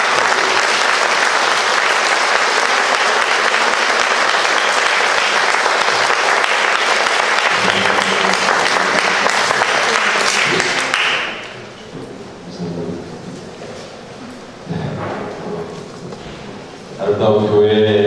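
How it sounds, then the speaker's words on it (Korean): Loud, sustained audience applause fills a church summer retreat hall for about eleven seconds before dying away, after which scattered sounds and a voice follow. "뜨거운 박수로"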